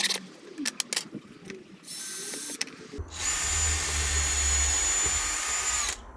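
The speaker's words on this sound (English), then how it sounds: "Notice when I was using the drill, I didn't take my finger off the trigger." A power drill drilling through wood whirs steadily at close range, grinding continuously for a few seconds after some brief clicks and handling noises.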